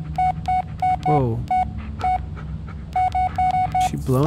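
A phone in The Blair Witch video game gives rapid repeated electronic beeps in quick bursts, loud and close, with someone speaking briefly between them.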